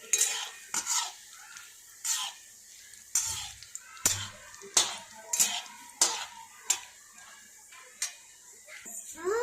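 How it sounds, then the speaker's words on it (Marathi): Almond slices are lightly roasted in a pan while a utensil stirs and scrapes them, giving a regular series of short scraping strokes about once a second over a faint sizzle, quiet and close with no talk. "त्यातच आपण आता बदामीचे काप, याला आपण हलकसं रोस्ट करू"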